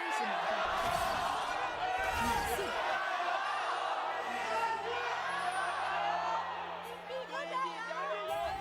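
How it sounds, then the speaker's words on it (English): A large crowd in an esports arena at a League of Legends LPL match roars and yells continuously, a dense wash of cheering voices, with a commentator talking over it. "That was a cacophony of people yelling."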